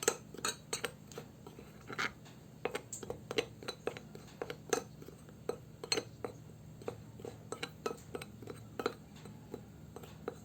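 Seasoned chicken fillet is stirred in a bowl, with a utensil clinking and scraping against the dish in an irregular run of sharp, close ticks over a quiet background.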